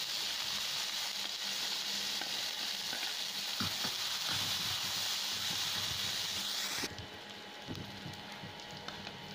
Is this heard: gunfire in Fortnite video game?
no